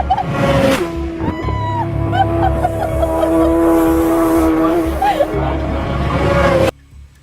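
A 1000cc four-stroke MotoGP bike races past on a track, its loud high-revving engine whine holding steady and close, then cutting off abruptly near the end.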